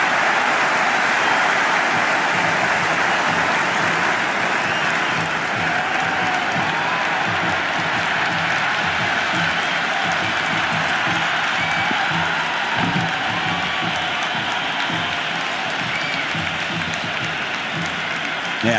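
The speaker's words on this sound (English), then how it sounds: "The crowd is electric right now." A stadium crowd in the Cricket 26 video game, at an India vs Australia match, applauds and cheers in a steady, dense roar that fills the whole stretch with no clear breaks.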